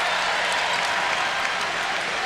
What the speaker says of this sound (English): Crowd appreciating the defense by the Boilers.